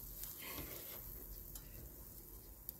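Anchovies and sliced garlic stir-frying in a pan, a steady close sizzle with scraping stir sounds running throughout, no voices.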